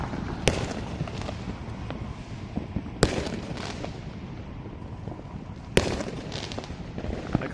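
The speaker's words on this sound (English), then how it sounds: "like, this is a crazy level of fireworks." A city-wide fireworks show for America's 250th anniversary: three heavy booms land a few seconds apart over a constant low rumble and crackle of distant bursts.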